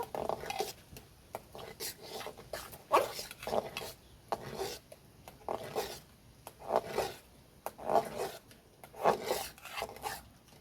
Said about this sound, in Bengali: ভালো করে একবার নেড়ে নেব।